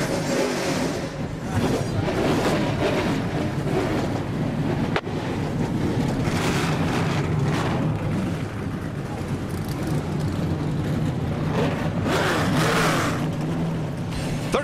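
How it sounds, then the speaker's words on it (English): Several NASCAR Truck Series trucks firing up and rumbling at the Chicagoland American Ethanol 225, a broad low engine roar heavily mixed with wind buffeting on the microphone and crowd-like noise, with announcer voices over it. "Drivers, start your engines."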